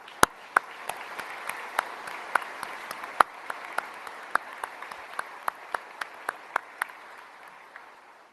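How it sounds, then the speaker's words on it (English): Audience applause at a military change of command ceremony, a steady wash of clapping from a crowd with a few sharp, distinct claps standing out, fading gradually toward the end. "Let's give Southcom a round of applause."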